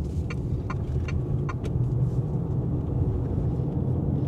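Steady low road rumble and engine drone inside a moving car, continuous and fairly loud throughout, with a few faint clicks near the start.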